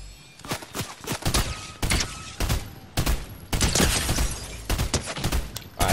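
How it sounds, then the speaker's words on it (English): Rapid bursts of shotgun blasts in the video game Fortnite, loud and close, coming in irregular clusters with brief gaps between volleys. "I can get siphon from my shotgun shots now."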